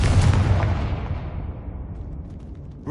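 Blasting-spell explosion from Hogwarts Legacy: a loud, deep boom at the start with a rumbling roar that slowly decays and thins out over the next few seconds, heard alone without talk.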